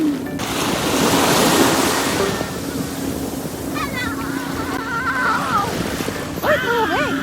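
Surf washes and rushes steadily under gusty wind noise, with brief voices breaking through toward the end.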